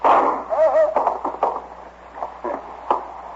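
A dog barks and yips in short bursts, with a whiny, pitched cry partway through, mixed with a voice talking nearby.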